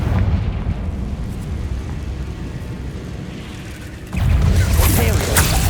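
A Confringo fire spell exploding in Hogwarts Legacy, a booming, rumbling blast that bursts in loudly after a stretch of muffled game noise and a spoken incantation.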